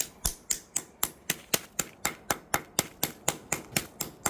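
Steady, evenly spaced hammer blows strike model railway scenery on a small quarry layout, about four sharp taps per second, close and crisp, with no talking.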